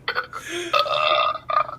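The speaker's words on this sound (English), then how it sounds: "Oh, that's just a burp." A single loud, drawn-out burp rumbles close to the microphone for nearly two seconds, changing pitch partway through, with no talk over it.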